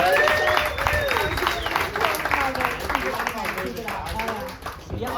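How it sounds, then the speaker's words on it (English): Applause for a comedian at a live comedy panel show on the Gold Coast, scattered clapping from a small audience running beneath people talking loudly over it throughout. "All right, well, round of applause."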